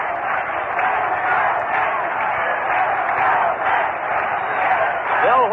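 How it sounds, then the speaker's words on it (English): A large baseball stadium crowd at a 1965 Mets versus Cardinals game roars steadily, a dense, continuous wash of cheering and applause with a radio announcer's voice over it. "And listen to that crowd."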